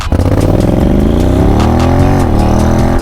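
A 2021 Honda X-ADV scooter accelerates hard in sport mode, its engine note rising in a loud, close, continuous whine as revs climb, with no speech.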